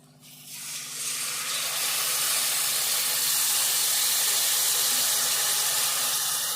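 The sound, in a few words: tamarind juice poured into hot pan of fish curry, sizzling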